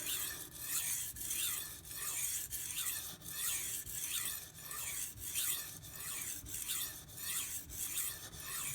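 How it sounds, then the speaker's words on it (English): A Karaku Aogami bunka knife, 165 mm and ground very thin, drawn over a whetstone in steady repeated strokes, each a loud gritty rasp in an even back-and-forth rhythm with no talking. "I'm going to go a few more strokes on this side and see if I can get that bevel a little bit better."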